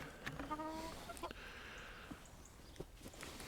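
A rooster and hens cluck softly nearby in short, scattered calls during egg collection in a cold spell, quiet and close, against a faint rustling background.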